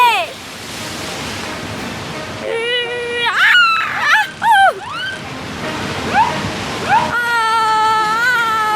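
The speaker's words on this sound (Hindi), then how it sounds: "ये लहरें हमारी बोट पलट भी सकती है।" Cartoon sound of big waves crashing and splashing against a small boat, a loud continuous wash of surf broken by a lull, with cartoon voices, squeaky whistles and tones layered over it.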